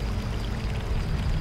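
A magic wand sinks into water with a continuous rushing, bubbling wash that holds at a steady, fairly loud level for the whole moment, with no voices over it.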